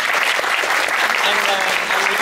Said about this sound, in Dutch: Een groot applaus voor Carlijn